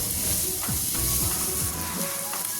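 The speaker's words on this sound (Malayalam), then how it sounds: "അതും കൂടെ ഒന്ന് ചെറുതായിട്ട് നല്ലതുപോലെ ഒന്ന് വഴറ്റിയെടുക്കാം." Small onions (shallots) sauté in a hot pan with a loud, continuous sizzle, and a utensil occasionally scrapes and stirs through them, heard up close with no talking.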